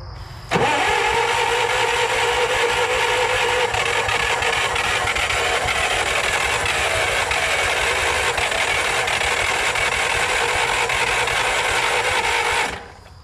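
An old Bobcat skid steer engine cranks continuously for about twelve seconds, a loud, close, steady churning whir that never catches and fires, then cuts off abruptly.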